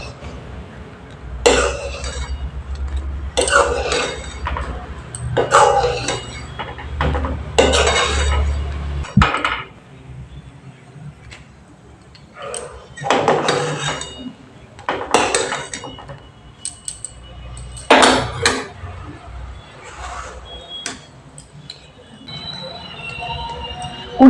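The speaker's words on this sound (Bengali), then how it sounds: "এবার আমি দুধটাকে ভালো করে নেড়ে নেব" A spoon stirs and clinks against a metal pot of milk cooking for Bengali papaya payesh, with cracked cardamom pods already added; the scraping and tapping come in irregular bursts separated by short pauses, close and moderately loud.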